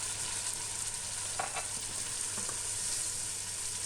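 Rice being stirred in a hot frying pan, giving a steady, close sizzle and frying hiss with a few soft scraping strokes of the spoon, no voices.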